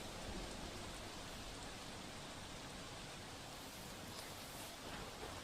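Heavy monsoon rain in Mumbai pours down in a dense, unbroken hiss, a steady wash of drops with no pauses or voices, captured at a modest level.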